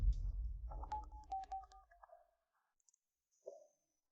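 Telephone keypad tones dialing a number, a quick run of about a dozen short beeps one after another, then a brief click and one more tone after a pause, close and clear in a quiet room.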